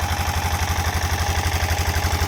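A diesel motor drives a borewell pump on a farm in Bahrain, running steadily and loudly up close with a rapid low throbbing pulse and a constant mechanical drone, no voices.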